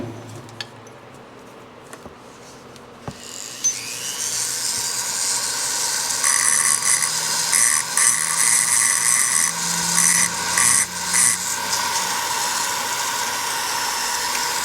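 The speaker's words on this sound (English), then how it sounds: "Using a diamond burr on this." A diamond burr grinds on a Suzuki RM125 crankshaft part, starting after a few light knocks and rising into a sustained, whining, rasping grind with small shifts in pitch.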